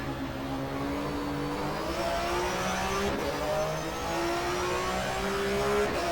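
A BMW touring car engine in the GTR2 racing game revs steadily with rising whine through the gears, a continuous loud racing drone on a 1994 German Touring Car Cup round at Zandvoort, with no speech.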